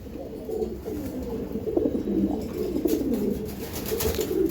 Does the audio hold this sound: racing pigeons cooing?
yes